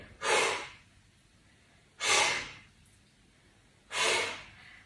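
Three heavy, evenly spaced breaths, each a loud forceful exhale, come during a deep-core pilates exercise, with quiet pauses in between.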